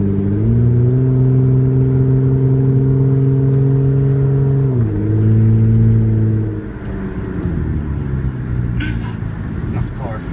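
A Hyundai Sonata with its muffler deleted drones loudly and steadily from inside the car, its pitch dipping partway through before settling lower, while people talk over the engine.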